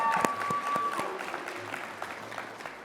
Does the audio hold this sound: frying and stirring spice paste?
no